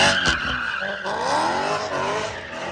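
BMW M3 and M4 performance cars heard from outside, a loud engine roaring and rising in pitch as one passes close by, with a high squealing edge throughout.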